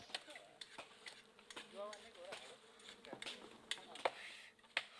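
Flies buzz faintly in short bursts among scattered ticks and light knocks, with quiet background ambience.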